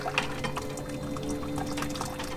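Sparge water trickles gently into a home brewing system, a soft steady splashing and pouring with light irregular drips, close and continuous, with no talk.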